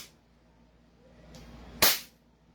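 An airsoft pistol fires a single shot through a chronograph, one sharp, loud crack near the end after a faint low stir, otherwise quiet.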